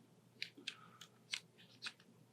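Small scissors snip off the tip of fly-tying material, about five crisp, close snips in quick irregular succession over a quiet background.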